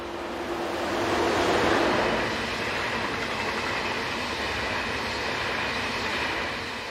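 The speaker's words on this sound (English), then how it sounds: "a railjet intercity service from Vienna to Munich passes" Railjet intercity train running from Vienna to Munich with electric locomotive 1216-210, passing as a loud steady rushing roar of wheels and air that swells slightly then holds, with no talk.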